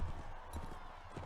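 Horse hooves in the video game Nova Aetas, a quick run of close, rhythmic clip-clop beats thudding steadily through a short stretch with no voices over them.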